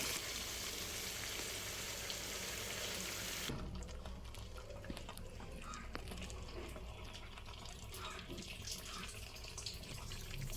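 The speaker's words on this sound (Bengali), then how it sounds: "এই সময় আমি দেবো এই বেটে রাখা সেই মিক্সটা, ওই পেঁয়াজ, টমেটো, পেঁয়াজ বেরেস্তা পুরো মিক্সটাই দিয়ে দেবো। দিয়ে ভালোভাবে কষিয়ে নেব।" Chicken sautéing in a pan with a paste of ground onion, tomato and fried onion, giving a steady hiss that is louder for the first few seconds, then settles into a softer, continuous sizzle with no talking.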